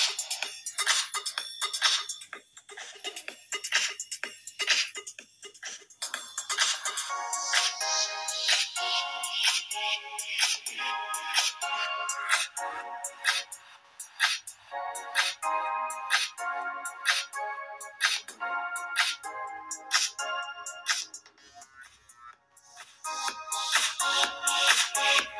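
A phone ringtone plays through the dual speakers of a Tecno Camon 17 Pro: a loud, continuous melodic tune with bright repeated notes, heard alone with no talk for about twenty-five seconds.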